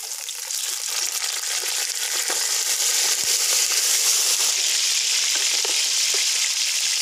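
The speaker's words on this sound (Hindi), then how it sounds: "आधा किलो मैं इसके अंदर चिकन शामिल करने लगा हूँ" Half a kilo of chicken hitting onions browning in a hot pan, a steady loud sizzle and crackle running unbroken throughout, with no talking.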